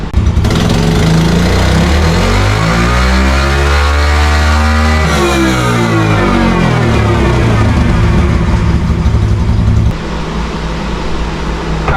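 A stock Yamaha TTR 110 pit bike engine revs loud and close on a dyno. The pitch climbs steadily through a full pull for about nine seconds, then drops to a lower, rougher idle.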